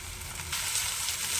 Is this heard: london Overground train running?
no